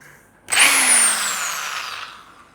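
A power drill or impact driver bolts up a crash bar bag support on a Yezdi Adventure motorcycle, starting abruptly in one continuous loud whir with a slowly falling pitch.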